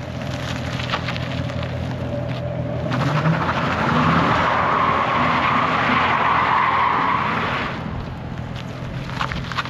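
Tires squealing and scrubbing as a 6-speed Infiniti G35 sedan does donuts, a loud sustained screech that builds over several seconds with engine noise underneath, then eases off.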